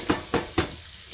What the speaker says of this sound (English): Butter is melted, skillet's heated up, in go the onions.